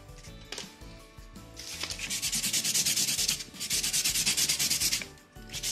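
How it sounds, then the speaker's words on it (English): A homemade wooden knitting needle made with a pencil sharpener is sanded smooth in a steady run of close, gritty rubbing strokes that grow louder after the first seconds. "So we'll just sand down and get it as smooth as we possibly can all the way around."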